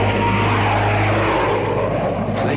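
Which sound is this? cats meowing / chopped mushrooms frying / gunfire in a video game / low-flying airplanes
low-flying airplanes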